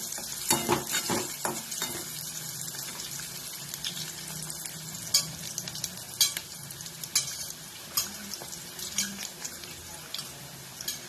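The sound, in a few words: onions frying in a pan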